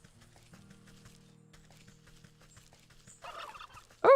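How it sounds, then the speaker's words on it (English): A turkey gobbles in the Wytchwood video game, one short loud call bursting out at the very end after a stretch of quiet game ambience and a brief softer squawk. "It's aggressive turkey, and it needs digestive tablets."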